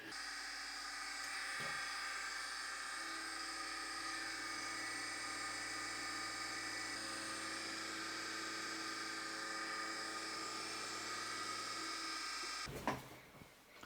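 A Deckel high-speed milling head cutting with a ball end mill gives a steady, high-pitched whine held for about twelve seconds, close and constant, before it cuts off abruptly with a short clatter.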